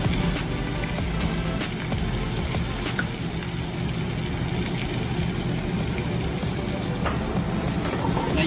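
Cajun shrimp pasta ingredients with Alfredo and marinara sauce sizzle steadily in a hot pan, a loud, continuous close frying hiss with faint crackles and no talking.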